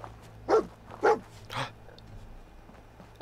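Dogmeat, the dog companion in Fallout 4, gives three quick, fairly close barks in succession, the last one softer, followed by quiet game ambience.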